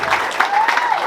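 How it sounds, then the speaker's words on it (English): Comedy club audience at a roast battle in Hartford breaking into steady applause, a dense wash of clapping hands filling the room briefly. "Everybody clap for her."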